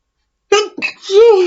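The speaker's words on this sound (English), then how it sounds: "Feels like I want to sneeze." A single short, sharp sneeze bursts out, followed by a brief vocal exhale.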